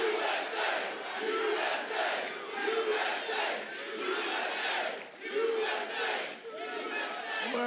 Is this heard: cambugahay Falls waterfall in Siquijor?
no